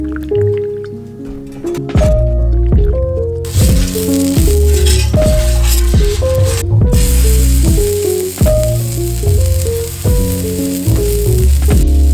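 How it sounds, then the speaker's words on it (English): A burger bun toasts on a griddle or cast iron skillet for a venison smash burger, with a steady sizzle running under loud, rhythmic plucked music for most of the stretch. "Throw it on your griddle or your cast iron skillet or whatever and toast your bun."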